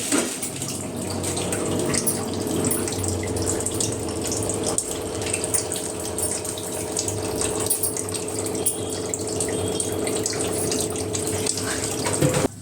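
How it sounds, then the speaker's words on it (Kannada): Water is poured into mushroom sambar cooking in a pressure cooker, heard as a loud, continuous tap-like gushing pour that runs steadily for the whole stretch without talk. "ಇದಕ್ಕೆ ಎಷ್ಟು ಬೇಕು ಅಷ್ಟು ನೋಡಿಕೊಂಡು ನೀರು ಹಾಕ್ಕೊಳ್ತಾ ಇದ್ದೀನಿ"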